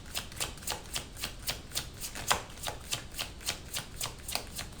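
Tarot cards are shuffled in quick, regular riffling bursts, a dozen or so soft papery flicks in a steady rhythm, close and fairly quiet with no talking.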